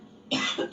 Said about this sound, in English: I just need to clear my throat a bit